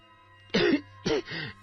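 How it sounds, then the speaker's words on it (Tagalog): Two or three throaty coughs close by, the first long and rasping, then a shorter pair in quick succession, over a low steady hum. "Sa muli niyang pag-ubo ay nailabas niya pa yon."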